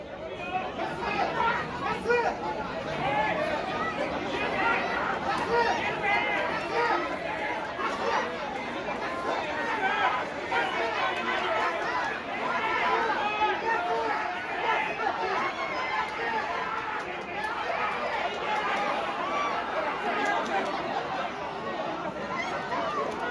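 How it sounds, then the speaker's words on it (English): A dense crowd chatters at a Japanese racecourse during the G1 Hopeful Stakes, a steady unbroken murmur of many voices filling the whole stretch at an even, lively level. "The G1 Hopeful Stakes was displayed on every screen on the track, and the energy from the crowd was overflowing"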